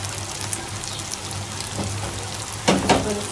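Shrimp added to a pan of cooked-down masala frying with a soft, rain-like crackling sizzle, then a louder burst of clatter and sizzle near the end as they are stirred.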